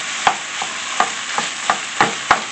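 Ground meat cooks down in a pot with a steady sizzle, and a utensil scrapes through it in regular strokes about every third of a second.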